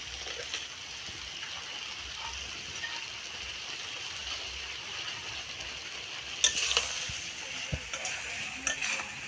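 Paneer frying in a spiced masala in a home kitchen, a steady soft sizzle with the occasional stir and utensil clink, heard near and alone.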